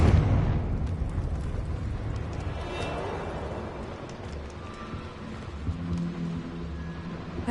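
A Confringo fire-explosion spell goes off in Hogwarts Legacy, a loud booming burst that rolls into a long rumbling, crackling decay lasting several seconds.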